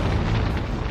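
A deep, rumbling explosion effect standing in for a solar flare on the sun, a single sustained low boom that fills the whole moment without a sharp attack.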